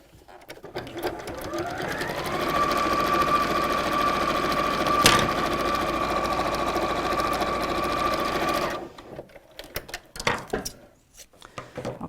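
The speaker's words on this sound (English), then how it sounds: "I'm sewing down both sides because it looks nice to sew down both sides" A sewing machine stitching down both sides of a fabric bag, a rapid steady mechanical whir running for about six seconds after a short start-up, then stopping into handling clatter.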